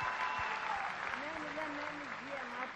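A TV studio audience on the Popstar show claps steadily, moderately loud, while a voice begins singing over the clapping.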